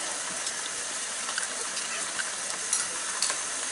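Ginger and garlic paste frying with browned onions in a pan, a steady broadband sizzle holding level throughout, with faint scraping stirs now and then.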